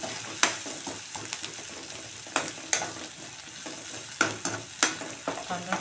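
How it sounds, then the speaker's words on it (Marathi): Onion and garlic fry in a pan, a steady sizzle broken by scattered clacks and scrapes from stirring, close and moderately loud with no voices. "कांदा छान लाल होऊन द्यायचा आहे,"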